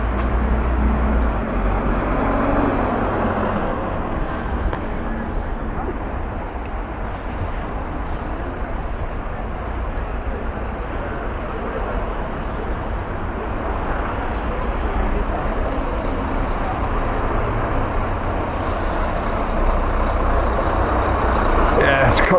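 Steady road traffic on Vicar Lane heard from a moving e-bike, a dense continuous roar of trucks, buses and cars with a hiss of air brakes, loud and unbroken throughout.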